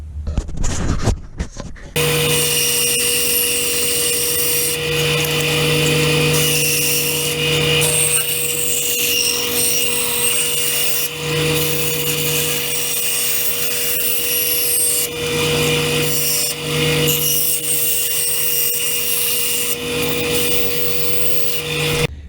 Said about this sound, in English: And then I'll go ahead and cut it on the bandsaw.